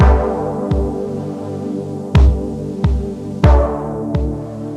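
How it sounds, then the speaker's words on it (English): A noisy synth keys patch from Komplete 14 plays sustained, humming chords with a throbbing low end, played through room and plate reverb. Several chord changes land as punchy attacks, with no voices. "Certainly a noisy keys patch, but that's part of it."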